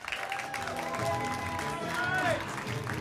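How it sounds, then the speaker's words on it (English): A comedy club audience at Zanies applauds and cheers for comedian Greg Schwem, a dense wash of clapping and crowd noise under a voice speaking over it. "Start clapping right now for Greg Schwem"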